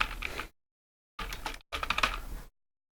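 Rapid close clattering of keys typed on a computer keyboard, in three short bursts separated by silent gaps, with no voice over it.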